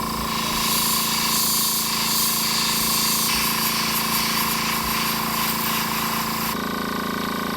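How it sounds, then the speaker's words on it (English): An airbrush hisses steadily as it sprays paint onto an artificial duck bill for a waterfowl taxidermy mount, a loud continuous close-up spray that shifts slightly in tone near the end. "we're using an airbrush to paint our artificial bill"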